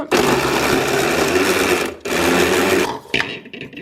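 An electric mincer grinds meats for a poultry liver terrine with a loud, dense whirring roar that runs steadily, dips briefly, resumes, then winds down near the end.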